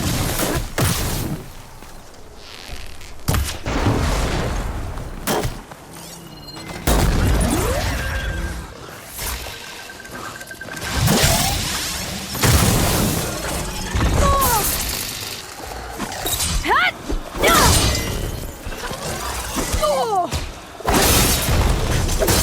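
Repeated explosions from a mine launcher in Horizon Forbidden West, a run of booming, shattering blasts and thuds spread across a chaotic fight, loud and close, with clanking mechanical sounds between hits.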